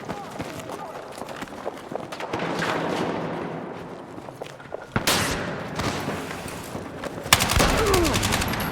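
Shotgun blasts and gunfire in the first-person shooter Battlefield 6, sharp loud bursts at irregular intervals over busy in-game battle noise, with a player talking at times.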